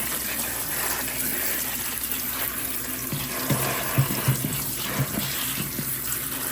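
Tap water runs steadily into a sink while potatoes are rinsed for a pot roast, a constant close gush with a few soft knocks and splashes as the potatoes are handled.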